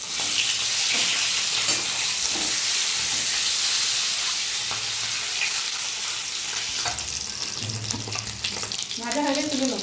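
Boiled eggs are dropped one at a time into hot oil for an egg curry, sending up a continuous bubbling sizzle with sharper crackling bursts. A voice briefly appears near the end.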